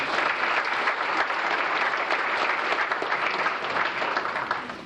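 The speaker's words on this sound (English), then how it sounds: "Let's give them a round of applause." Audience applause at a 1998 Casey County FFA banquet, a dense steady clapping from a full room that lasts the whole stretch and fades slightly at the end.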